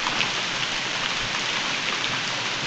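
Steady rain pouring down outdoors at a campfire cooking spot, a dense even hiss of drops striking surfaces with no break and no voices.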